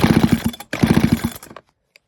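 A John Deere 55 SVL engine with a carburetor fault sputters in two short bursts of rapid, uneven firing, close and loud, then stalls into silence.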